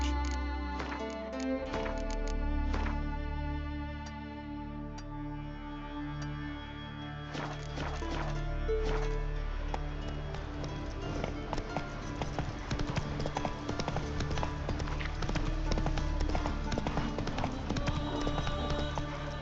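Roach the horse's hooves clip-clop steadily in The Witcher 3, a rhythmic run of hoofbeats over a layered game music bed that starts near and continues through to the end.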